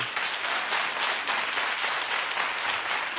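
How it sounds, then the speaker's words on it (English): Steady, dense applause from a large television talk show studio audience, many hands clapping at once in an even wash of sound with no voices over it. "keep clapping"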